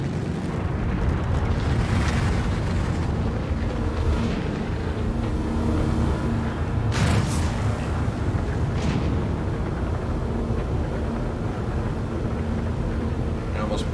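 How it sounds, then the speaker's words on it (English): Crusader Industries Ares Starfighter Ion cannon firing in the Star Citizen video game, a continuous heavy roaring rumble with several sharper bursts rising out of it, loud and steady throughout. "But shooting this cannon into space never gets old."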